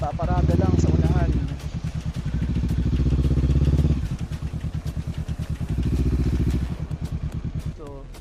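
A motorcycle at a motocamp in Tanay, Rizal idles with a loud, close, throbbing engine beat that rises and falls as it is moved and parked beside a tent, with someone talking over it.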